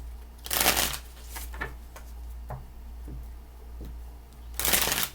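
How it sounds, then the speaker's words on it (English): Two bursts of tarot card shuffling, a quick riffle at the start and another at the end, with soft taps and clicks of cards in between. "2 more shuffles."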